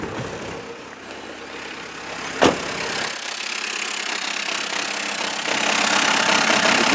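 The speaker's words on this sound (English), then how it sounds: "my engine light's on, the car's running rough," A Citroen Berlingo HDi diesel van with the engine light on idles roughly, misfiring with a steady uneven clatter, one sharp click partway through and the engine note rising toward the end, close by with no talking.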